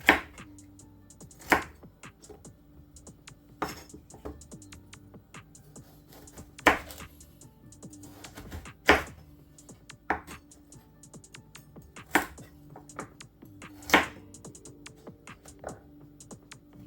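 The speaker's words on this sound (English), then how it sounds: "Cut the carrot now." A knife chops a carrot on a board in sharp, separate strikes about every one to two seconds, each a crisp close knock over faint background hum.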